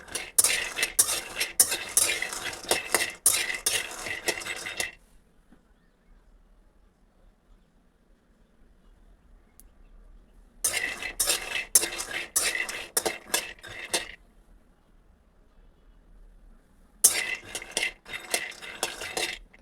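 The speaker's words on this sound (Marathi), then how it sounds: "सर्वात आधी शेंगदाणे भाजून घेऊया" Peanuts roasting in a pan for sesame-peanut laddoos, stirred in three bursts of close metallic scraping and rattling with quiet pauses between, no talk.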